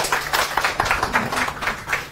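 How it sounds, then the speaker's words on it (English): Audience applause at an entrepreneurship event for footwear and bag design graduates, a steady patter of many hands clapping at moderate loudness with no talk over it. "we can give Rita a nice round of applause"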